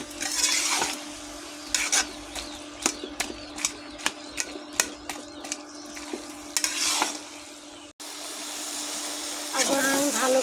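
Cabbage curry stirred and mashed in a pan, heard as a run of sharp rhythmic taps and scrapes of a utensil over a low sizzle, with a voice talking at times.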